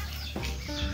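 A turkey gives short, close clucks and gobbling calls in a rural Philippine setting near a beach in Carles, Iloilo, with quiet outdoor background between the calls.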